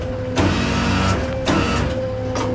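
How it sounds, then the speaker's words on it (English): The bed of a rollback flatbed tow truck rolls back with a steady mechanical motor whine and hum, broken by a few short clunks and surges. "Now I can take the bed and roll her back"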